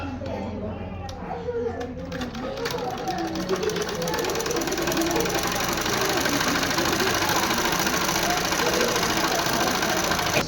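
A sewing machine stitches a blouse, giving a steady, fast mechanical whirring and clattering that runs throughout and grows slightly louder, while someone talks over it.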